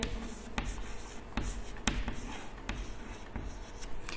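Marker or chalk strokes on a board during an accounting lesson, a steady scratchy rubbing broken by sharp taps at irregular intervals, with no talking.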